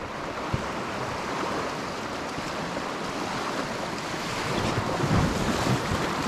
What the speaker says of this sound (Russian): Об него тоже идет волна